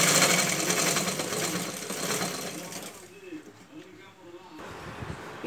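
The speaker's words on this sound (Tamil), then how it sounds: "2 தையல் போடுங்க 2 பீஸுமே." Sewing machine stitching pieces of boys' shorts, a steady close mechanical whir for a few seconds that stops, followed by someone talking.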